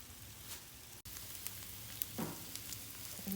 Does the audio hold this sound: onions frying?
yes